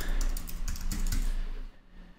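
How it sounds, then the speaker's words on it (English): Rapid typing on a computer keyboard, a dense burst of close, crisp key clicks that thins out and stops near the end. "sorry, my keyboard."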